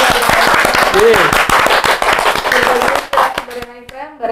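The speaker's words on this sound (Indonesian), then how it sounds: "Tepuk tangan untuk Konco Desa." An audience at an Indonesian village-development talk event breaks into dense, close clapping that thins out after a few seconds, with voices cheering over it.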